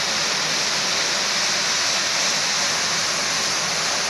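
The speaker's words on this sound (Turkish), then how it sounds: "Arkadaşlar görüyorsunuz mükemmel bir şekilde halımız güvenilir bir şekilde yıkanıyor" Carpet being washed with water at a carpet and car wash, a loud continuous rushing spray of water, steady and unbroken throughout.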